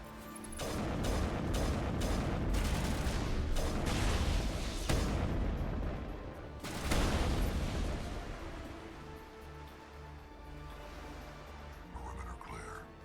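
Orbital artillery strikes in Mass Effect pound the battlefield on Virmire as a string of loud booms and rumbling blasts, heaviest early on then easing off, with a voice talking over the barrage.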